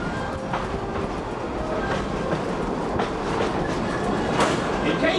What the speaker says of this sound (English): our train today is being pulled by locomotive number 190